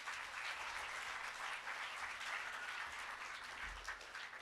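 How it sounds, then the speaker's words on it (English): An audience at a provincial government launch event gives a round of applause, a steady wash of clapping heard from a distance at moderate volume, continuous for several seconds. "Let's give him a round of applause."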